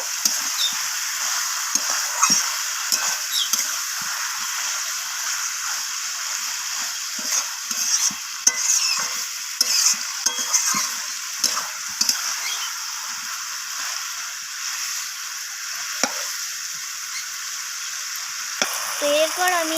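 Chicken gizzard and liver stir-fry with ginger paste in a pan, a constant bright sizzle under frequent light clicks and scrapes of a spatula, close and fairly loud, with no talk.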